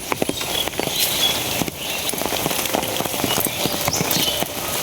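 Light morning drizzle patters nearby as a soft, steady hiss, with scattered irregular droplet ticks.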